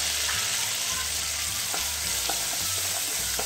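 Turmeric being stirred into a frying tempering for lemon rice, with steady loud sizzling and spoon scrapes against the pan, no voices.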